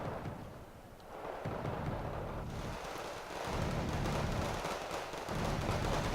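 Heavy artillery fire from TH-495 guns alongside Bison units in the Wargame Red Dragon strategy game, a dense rumbling barrage of booms rolling continuously across the clip with swelling bursts, no voices.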